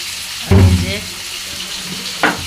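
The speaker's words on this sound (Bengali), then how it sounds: "সিলভার কাপ মাছ ভুনা করবে, এই জন্য মাছগুলোকে ভেজে নিতেছে।" Pieces of silver carp fish frying in hot oil, a loud burst of sizzling as food hits the pan followed by steady crackle and a second short clatter near the end.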